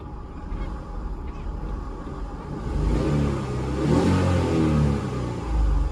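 A car engine revs and accelerates as a first-time driver presses the accelerator and slowly releases the clutch. The engine hum is steady at first, then rises and grows louder midway, with no talk over it.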